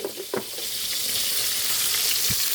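Fish fries in a pan with a steady, loud, close sizzle and a few brief clatters of spatula or pan, and nobody speaks.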